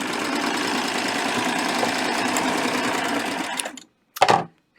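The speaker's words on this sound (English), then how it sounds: "that's actually one of my favorite ways of using the serger, because it's very accurate" A serger stitches a seam on baby shorts, its knife trimming the edge: a close, steady mechanical whir that runs for nearly four seconds, stops, then gives one short burst.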